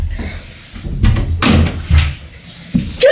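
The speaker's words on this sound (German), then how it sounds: "Tür zu!" A door slams shut with a loud, close thud, followed by a few lighter knocks and rattles, in a short indoor stretch with no voices.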